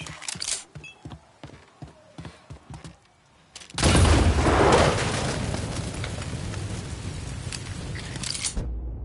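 A grenade exploding in the Mafia III video game: a rapid string of gunshots, then a sudden loud close blast that rumbles and decays over several seconds.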